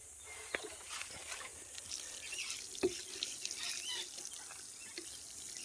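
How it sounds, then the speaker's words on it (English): Seaweed solution trickles and splashes faintly from a watering can onto newly planted vegetable seedlings in a garden bed, a soft continuous pour with a few small drips. "water in those new veggies and seedlings that you've just planted."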